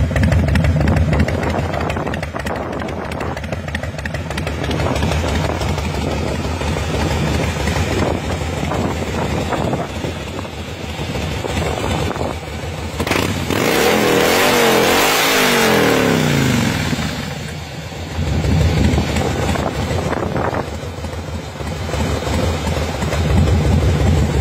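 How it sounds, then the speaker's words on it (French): Fuel-injected 1584cc Harley-Davidson Fat Boy engine idling with a steady, loud, lumpy low rumble, close by, briefly swelling in revs midway before settling back to a low idle; no talk. "donc on retrouve bien le potato des vieilles Harley"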